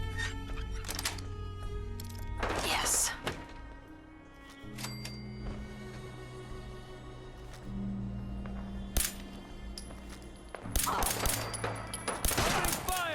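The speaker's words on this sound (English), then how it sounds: "Those are Diamond City and some super mutants fighting, I think, is the noise we're hearing." Gunfire crackles in bursts during a Fallout 4 skirmish between Diamond City forces and super mutants, sharp volleys clustered near the start and again toward the end over a steady game hum, with a voice speaking in between.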